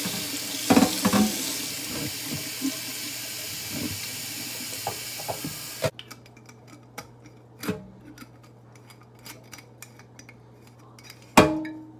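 Hot water running from a household tap into a sink, a steady broadband rush at first that cuts off partway, followed by scattered drips, clinks and handling noises.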